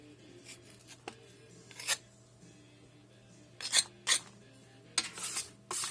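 Red clay being scraped off a casting, heard as short raspy scraping strokes in bursts, close up and separated by quiet pauses over a low steady hum.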